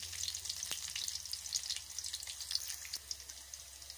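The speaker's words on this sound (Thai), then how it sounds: "เมื่อใส่น้ำมันพืชหรือว่าน้ำมันหมูลงไปแล้วนะคะก็ใส่กระเทียมสับนะคะ" Chopped garlic fries in vegetable oil or lard in a pan, cooked in a traditional Thai home kitchen; a soft, steady sizzle crackles throughout with no talk.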